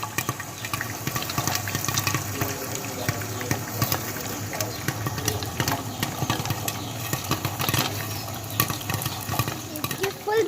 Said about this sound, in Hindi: इसकी आवाज़ें आना शुरू हो गई है। देखिए पॉपकॉर्न्स बन रहे हैं।